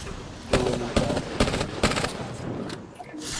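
In a multiplayer shooter game, bursts of gunfire ring out close and loud, with four or five sharp volleys in the first two seconds and then lighter scattered shots.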